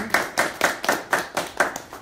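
Rhythmic, steady clapping from a small audience at a product training meeting: about eight sharp, evenly spaced claps in two seconds, close and moderately loud, with no talk over them.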